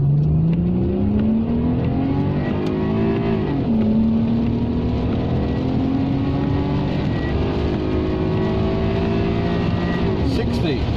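A car in sport mode pulls hard away from a junction, engine revving high through the gears with a short pause at a shift, loud and close from inside the cabin.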